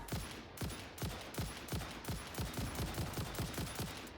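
Rapid gunfire from guns in the video game Satisfactory, a steady run of evenly spaced sharp shots over about four seconds, moderately loud with no talk.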